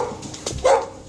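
Puppies let out a short yip and a bark, fairly close, amid rustling and movement in a house entered by police.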